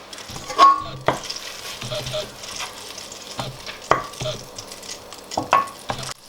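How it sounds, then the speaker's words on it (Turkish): Butter melts in a pan for Central Anatolian sulu köfte, a quiet sizzle broken by several sharp clinks and scrapes of a utensil against the pan at irregular intervals. "İlk önce tereyağını eritiyorum."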